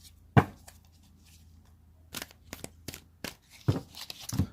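A few brisk riffling bursts of cards being shuffled, close up, separated by short pauses and light handling clicks.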